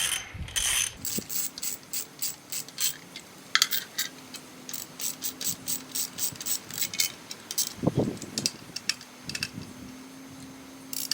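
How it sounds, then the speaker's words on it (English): A hand ratchet tightens transmission adapter bolts on a Nissan 300ZX Z32 during an LS engine swap, giving rhythmic, close metallic clicking in repeated runs with brief pauses and a few clanks of tools. "I'm going to go ahead and tighten these other bolts up"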